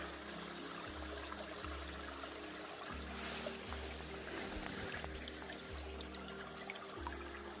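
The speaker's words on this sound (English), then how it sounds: "Fresh water here coming from the mountains." Fresh mountain water flows steadily on a hiking trail near Harrison Hot Springs, a continuous close rushing and trickling hiss with a low rumble underneath and no voices.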